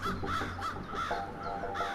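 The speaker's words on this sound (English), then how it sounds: "crows swoop in from all directions, their numbers entering the hundreds" A large flock of crows calls at night, with repeated harsh caws in rhythmic bursts from several birds, moderately loud over a steady low background hum.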